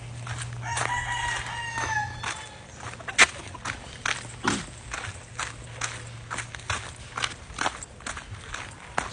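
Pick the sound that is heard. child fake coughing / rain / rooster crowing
rooster crowing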